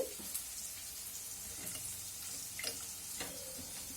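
Kurma mixture poured into a hot pan and stirred for poitto kuruma, a soft continuous sizzle with scattered scraping and clinking taps of the spoon against the pan.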